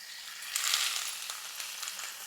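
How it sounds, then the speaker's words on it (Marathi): Steady, bright sizzling of thalipeeth flatbread dough frying on a hot griddle, crackling close by without any talking. "आता आपण हे थालीपीठ असं तव्यात टाकायचं"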